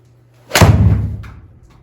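A golf club strikes the ball on a full swing with one sharp, close thud, then a short fading tail and a faint click afterward.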